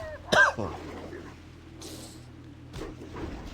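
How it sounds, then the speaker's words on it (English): A single sharp cough bursts out near the start, followed by a few quieter throat-clearing sounds over steady low background hum. "This cough is getting to me."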